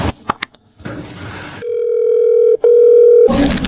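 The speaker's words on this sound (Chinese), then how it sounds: "爸爸再给妈妈打一个电话。" A telephone dial tone sounds as a father rings the mother on the phone: a few clicks and handling noise, then a loud, steady single tone lasting about two seconds with a brief break in the middle before rustling resumes.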